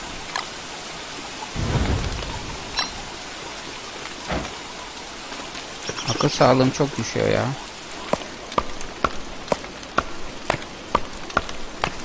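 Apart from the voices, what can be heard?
rain and thunder in the video game Don't Starve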